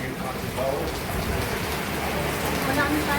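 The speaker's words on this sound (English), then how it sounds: "Oh, the roof's raining." Heavy rain pours steadily during Storm Emilia in Caleta de Fuste, with water dripping and splashing through a leaking roof, a dense continuous hiss at moderate level with no breaks.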